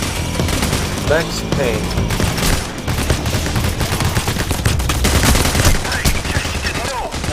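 Dense, continuous gunfire in the heist shooter Payday: The Heist fills the whole stretch with overlapping rapid shots, loud and close, while a player's voice talks over the action.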